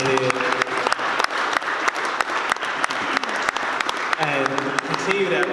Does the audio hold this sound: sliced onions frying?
no